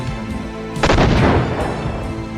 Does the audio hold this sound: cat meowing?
no